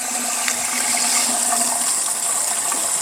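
Water rushing steadily from a throttled Shimizu SPES-308K pump outlet during a 20-meter head test, a continuous close splashing gush with a faint tonal hum underneath, no voices.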